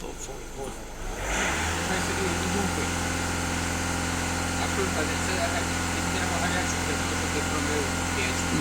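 A Volkswagen Golf 1.6 TDI diesel engine is brought up from idle to about 2,500 rpm, a steady, fairly quiet drone holding constant after the initial rise.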